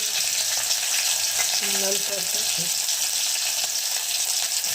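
Cumin, mustard seeds and green chillies crackle and sizzle in hot oil for a Maharashtrian yogurt kadhi tempering, a steady close frying hiss with a brief stir partway through.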